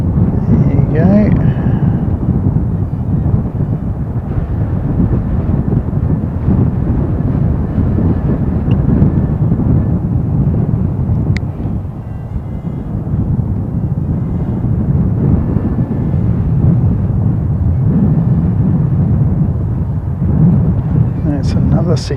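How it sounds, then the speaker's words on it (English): A Cessna CJ3 business jet passes at an airport, a steady loud low roar running the whole time with wind rumble, and someone talks over it. "Another Cessna, that guy. It's a CJ3."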